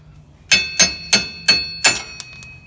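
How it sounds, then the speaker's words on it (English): Five sharp metallic hammer strikes ring out at an even pace as a wheel stud is driven out of a truck hub, each blow close and loud with a short ringing decay. "we're gonna go ahead and take a hammer and drive out this stud"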